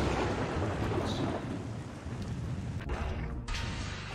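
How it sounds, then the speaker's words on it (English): Steady rain on a Mortal Kombat video game stage, a continuous broadband wash of falling water with a low rumble beneath. "So this rain is a version I threw on for Derek because he likes rain."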